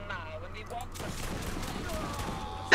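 Gunfire in the video game Borderlands, a rapid burst of shots that swells into a sustained volley, heard under a player's talk.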